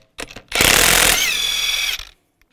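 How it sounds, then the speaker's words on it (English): A power impact tool spins a 22 mm socket to remove lug nuts from a 2015-2020 Cadillac Escalade wheel, one loud continuous whirring burst of about a second and a half, close by, with brief clicks before it. "Use a 22 millimeter socket and take the lug nuts off."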